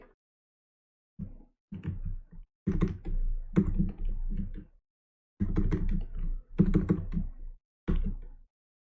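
Computer keyboard typing in close, quick clustered bursts of key clicks, separated by short silent gaps.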